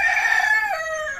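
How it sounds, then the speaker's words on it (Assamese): A rooster crows once, loud and close, its call rising and then dropping into a long drawn-out tail, with no talk over it. "কুকুৰা দেখিছে ইমান ধুনীয়া কুকুৰা আছে"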